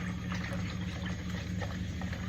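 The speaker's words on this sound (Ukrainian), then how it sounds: "Оце розколочуємо зараз вінчиком." A whisk beating a batter for khachapuri in a bowl: a steady, fast, wet churning texture at moderate volume that keeps going without pause, with a low hum underneath and no talk.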